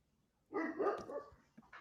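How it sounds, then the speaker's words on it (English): A dog gives a single short, muffled bark followed by a softer yip, heard at a moderate distance in a quiet room. "Yeah, you can hear my dog in the back."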